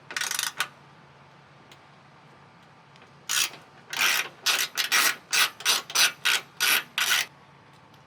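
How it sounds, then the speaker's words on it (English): A 10 mm painted bolt is ratcheted loose on a 2021 Ford Bronco: a run of about nine quick, bright ratchet clicks near the mic after a brief earlier burst, with no talking. "I'm going to remove this bolt completely."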